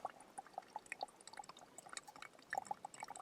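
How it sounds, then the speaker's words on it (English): Water trickles and drips from a clear flowing wilderness stream as a container is filled, soft irregular plinks and gurgles, faint and close, with no voices. "that's how you collect water in the wilderness"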